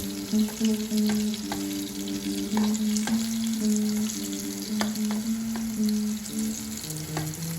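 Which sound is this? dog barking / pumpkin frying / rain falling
pumpkin frying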